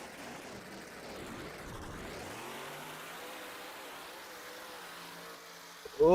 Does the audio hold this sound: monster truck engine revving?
yes